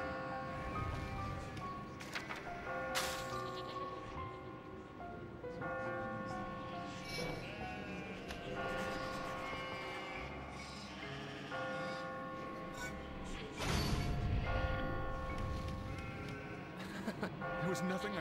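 Sheep bleating in the video game Catherine, wavering animal cries repeating over game music with bell-like tones, with speech-like voices mixed in throughout.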